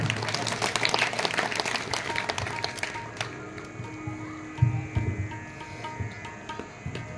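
Audience at a temple fair sermon programme claps in a burst of loud applause for about three seconds, then it fades to a quiet background with scattered sounds and an insect-like chirp.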